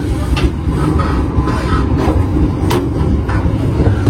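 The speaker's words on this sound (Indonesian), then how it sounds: "ini kereta api Ciremai" Steady rumbling and rattling of the Ciremai passenger train in Indonesia rolling past close by, with faint clicking wheel noise throughout and no talking.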